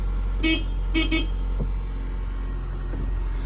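A 1995 Geo Metro LSi with 118,686 miles idles steadily after a cold start, giving a constant low engine drone, with a couple of brief tonal beeps early on and no talk.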